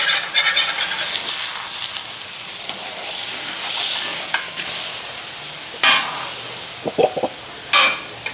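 Bacon cheeseburger sliders sizzle on a hot cooking surface as they are flipped, a steady bright hiss with a few scraping and clattering spatula knocks near the end.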